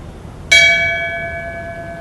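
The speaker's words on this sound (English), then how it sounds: "Would you please ring the bell in tribute and in memory for Deputy John Rudiger?" A single memorial bell is struck once in tribute to a deputy, its bright metallic tone ringing out and slowly fading with a long sustained hum.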